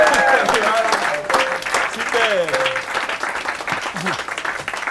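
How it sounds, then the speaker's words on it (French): Stage show audience giving sustained, loud applause that fills the hall, with voices and a brief spoken word over the clapping. "Qu'on applaudit très très fort, mesdames et messieurs"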